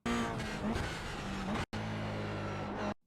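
A Toyota GR86 in iRacing at Rudskogen Motorsenter snarls close and loud, its pitch stepping down through several downshift blips under braking, then a brief cut and a steady lower engine tone until it stops.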